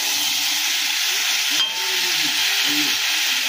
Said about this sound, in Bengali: এবার এটাকে কষিয়ে নেব হালকা করে